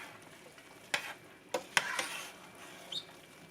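Broccoli is stirred into a cooking pot, giving a few sparse, soft scrapes and clinks of a utensil against the pot over quiet, faint background sizzling.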